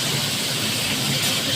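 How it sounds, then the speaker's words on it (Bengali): Fish frying in hot oil, a dense, loud, unbroken hiss and crackle with no pauses or voices. "সুন্দর আমি ভাজাটা করছি"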